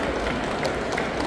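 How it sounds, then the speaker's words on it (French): Steady applause from an audience at a Japan Expo round table, a dense, even wash of clapping that holds for the whole moment with no voices over it. "Je vous propose qu'on les applaudisse une dernière fois."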